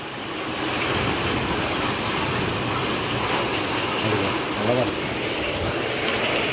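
Large hailstones falling outdoors, a dense continuous pelting roar with scattered sharper impacts, loud and steady, a voice faintly audible underneath.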